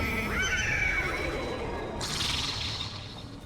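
A horse in the video game Destiny 2 gives a loud, clear whinny that rises and falls over a few seconds, followed by a brighter swooshing burst, with little else around it.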